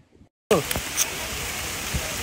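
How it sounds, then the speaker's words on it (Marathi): Heavy rain pouring down outdoors, a sudden dense roar of falling water that starts after a brief near-silent moment and continues loud and steady, with a few sharp drips and knocks close by. "गाइस बघू शकता खूप जोरात पाऊस आलेला आहे या ठिकाणी"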